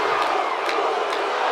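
Loud, dense crowd cheering from a packed Minneapolis arena in the wrestling video game WWE 2K24, a steady roar with brief whoops and shouts rising above it.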